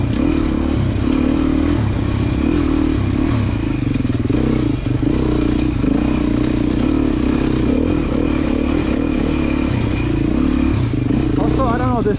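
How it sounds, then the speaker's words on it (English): Beta dirt bike engine running loud and close the whole time, a raspy, steady off-road motorcycle drone with clattering and scraping mixed in, out at a demo day. "this thing revs in a way that feels very controllable, but also spins up fast"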